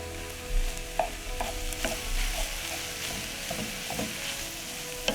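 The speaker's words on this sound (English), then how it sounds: "we're going to brown our mince" Mince browning in a pan over medium-high heat for spaghetti Bolognese, a steady close sizzle broken by repeated scraping stirs of a utensil against the pan.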